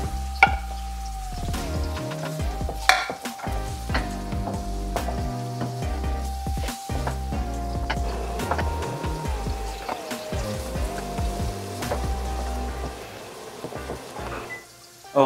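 Garlic sizzling with caramelized onion in a pan over medium heat, a steady close frying hiss with occasional utensil knocks, under light background music.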